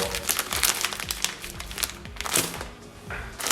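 Close, busy crinkling of a plastic bag of organic ginger coffee being handled, with soft taps and rustles throughout.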